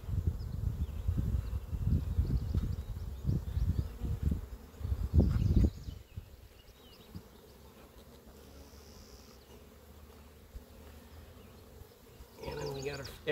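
Bees humming around an open garden beehive, the buzzing steady at close range and partly overlapping a voice in the first half, continuing alone and quieter afterward.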